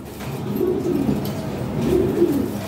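Lahori Sherazi pigeons coo softly and close by in a few low, rolling phrases, with no voices over them.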